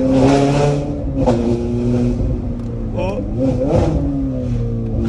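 A Ferrari engine revving and accelerating up through gears, loud and close inside the car, with excited voices talking over the rising engine note.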